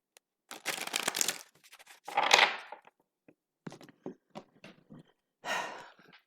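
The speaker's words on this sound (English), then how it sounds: "one more quick shuffle." Playing cards are shuffled in short crisp bursts, riffling and snapping up close, with brief pauses between the flurries.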